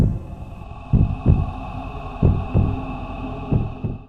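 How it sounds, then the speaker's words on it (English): A heartbeat sound effect throbs in low, heavy double thumps that repeat at a steady, slow pace over a faint constant hum, with no other sound. "No sound of wood, only the sound of her own heartbeat."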